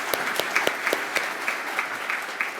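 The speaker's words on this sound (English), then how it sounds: "Let's all give them a round of applause." A small group applauds at a community meeting, a moderate round of clapping with several distinct, sharp nearby claps standing out in an uneven rhythm.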